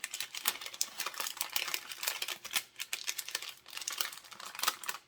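Parchment paper being folded into a piping bag crackles and crinkles close by in a steady run of papery rustles and sharp crisp snaps, with no voices.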